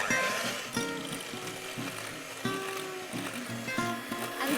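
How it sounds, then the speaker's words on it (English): An electric whisk beating egg whites for a dessert recipe, a steady, fairly quiet mechanical whir with a rattling, ratchet-like texture and repeated small pitch shifts as the beaters move through the bowl. "beating egg whites is a tough workout, but luckily for me, I'm using an electric whisk"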